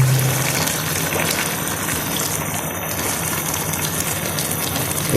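Milk pours into a pan of pumpkin halwa cooking on the stove, a steady gushing liquid stream heard close up as a continuous wash of sound with no talking.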